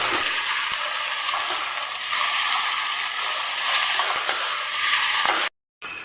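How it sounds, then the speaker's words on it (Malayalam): Vegetable dosa batter made without urad dal is mixed in a bowl, producing a steady, close, wet swishing and stirring sound that runs continuously before cutting out abruptly near the end. "ഇനി ഇത് നല്ല പോലെ നമുക്കൊന്ന് മിക്സ് ചെയ്ത് കൊടുക്കാം"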